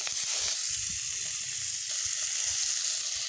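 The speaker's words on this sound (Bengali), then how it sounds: "ফোড়নটা লাল হয়ে আসলেই দিয়ে দেব ধুয়ে রাখা মটরশুঁটিগুলো। আর এইভাবে একটু ভাজতে হবে।" Washed green peas sizzle hard in hot oil with whole cumin seeds, a loud, continuous hiss close up with faint low stirring thumps beneath and no voices.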